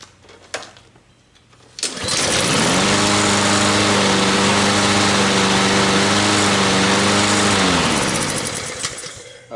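A Honda engine on a Troy-Bilt lawn mower, fitted with a replacement carburetor, catches on the first pull after a brief rattling crank and settles into a loud, steady, close-up idle for several seconds before cutting off.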